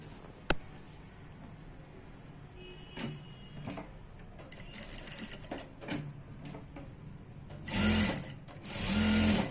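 A sewing machine stitches a one-piece garment at the shoulder seams, with scattered clicks and handling noises, then two loud runs of rapid stitching near the end; no voices.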